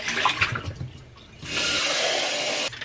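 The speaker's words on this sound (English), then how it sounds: "Fill this up with water." Water gushes steadily into a coffee machine's reservoir, splashing close by, then settles into a fuller, even rushing pour before stopping abruptly.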